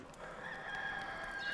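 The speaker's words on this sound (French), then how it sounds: "On vient d'entendre le chant du coq." A rooster crows once in the video game Enshrouded, a drawn-out cock-a-doodle-doo sounding somewhat distant and soft against faint background ambience.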